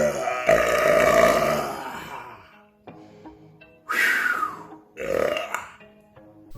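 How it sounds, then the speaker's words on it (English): Someone lets out long, loud, close belches in three bursts, the first drawn out and rumbling, the next two shorter and rising, with quiet background music in the gaps. "letting himself burp, showing no mercy to any mortal around him, deafening them in one quick blow"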